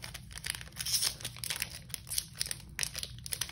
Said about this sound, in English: Now let's get into the 12 card pack.